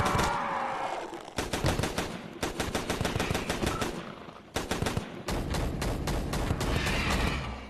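Rapid-fire gunfire in the VR shooter Crashland VR, long fast bursts of sharp repeated shots with brief pauses between volleys, loud and close, with no talking over it.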